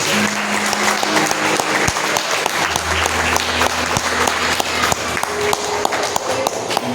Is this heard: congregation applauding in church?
yes